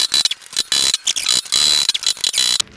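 Metal chisel scraping and knocking against the rusty threaded locking ring of a Kia Sorento gas tank fuel pump, a close run of irregular gritty ratcheting clicks and scrapes in short bursts with no talking.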